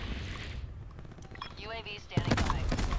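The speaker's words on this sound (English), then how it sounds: "Oh, that was a shotgun." Gunfire in the Black Ops 4 video game: a burst of loud, close shots starts partway through and keeps going over a noisy game background, with a voice talking under the earlier part.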